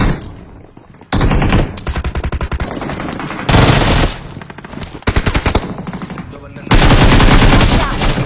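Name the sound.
gunfight in a battle royale video game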